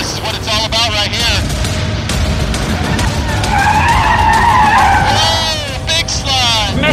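Lexus IS 350 F Sport sliding on a race track, tires squealing in rising and falling wails over loud engine roar, close and intense, with bursts of talk mixed in.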